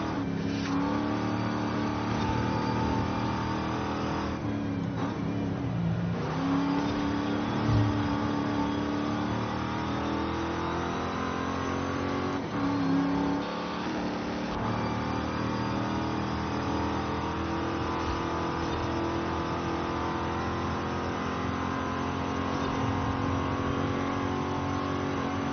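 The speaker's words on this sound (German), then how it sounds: "Der Wagen fährt sich ja." Oldsmobile Toronado, a front-wheel-drive US car, driving in a video game, with a steady engine drone that rises and falls as it accelerates, fairly loud and continuous throughout with no talk.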